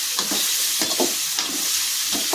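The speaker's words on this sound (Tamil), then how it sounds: "இப்போ வந்து பார்த்திங்கன்னா நம்ம வந்து வெங்காயம், பச்சை மிளகாய் வந்து போட்டு நல்லா வந்து வதக்கிக்கலாம்." Onion and green chilli sauté in hot oil with a dense, continuous sizzle, punctuated by repeated spatula strokes against the pan at an irregular rhythm, close and loud.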